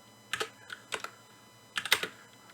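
Close computer keyboard typing while writing code, with two short clusters of crisp key clicks separated by a brief pause, set against a quiet hum.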